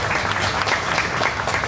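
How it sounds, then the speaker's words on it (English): Loud, dense applause from an audience at a Charaexpo 2015 press conference, steady clapping filling the whole short stretch with no voices on top. "Give a round of applause."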